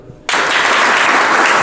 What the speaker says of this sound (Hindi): पहले तो ताली बजाओ